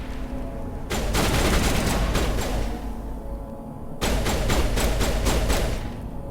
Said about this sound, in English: You guys are shooting a rock, by the way.